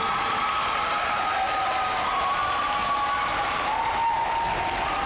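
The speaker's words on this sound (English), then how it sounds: "How about a nice round of applause for our teachers" Dense, sustained applause from a large crowd, steady and loud from start to finish with no pauses.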